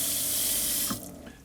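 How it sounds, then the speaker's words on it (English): Water runs from a fold-down faucet into a deep stainless steel sink inside a Ford Transit Trail camper van conversion, a steady loud hiss that cuts off near the end, leaving faint drips and clatter. "We've got a nice deep stainless steel sink, cutting board, fold down faucet in here."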